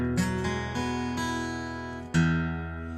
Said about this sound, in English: That's the sound of Brazilian rosewood.